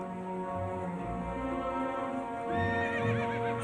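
Dülmen wild horses on winter moorland, a loud drawn-out whinny with wavering pitch rising over a steady outdoor background, close and clear.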